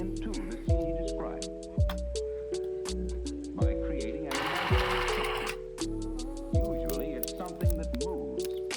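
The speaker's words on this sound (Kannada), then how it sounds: "ಇಲಾಸ್ಟಿಕನ್ನು ಕಂಪ್ಲೀಟ್ಲಿ ಮತ್ತೊಂದು ಕಡೆ ತಗೊಂಡು ಈ ಎಡ್ಜಲ್ಲಿ ಮತ್ತೊಂದು ಸ್ಟಿಚ್ ಹಾಕಬೇಕು" A sewing machine stitches elastic along a fabric edge in repeated short runs, each starting with a sharp mechanical onset and humming steadily, while a voice talks over it throughout.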